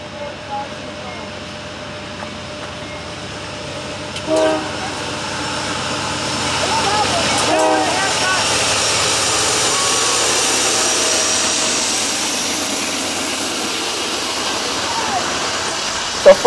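Norfolk Southern freight train NS380 passing with a second locomotive trailing, a broad steady roar that builds and holds, with a couple of brief horn-like tones early on, heard from a distance.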